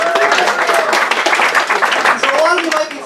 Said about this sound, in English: Just by a round of applause.